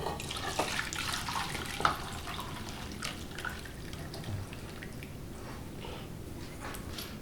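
Cold water pouring steadily into a bowl of Jell-O mix, a continuous splashing gush with a few brief drips and clinks, moderately loud and close, with no talking.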